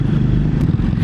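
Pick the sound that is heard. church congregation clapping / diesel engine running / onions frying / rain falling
diesel engine running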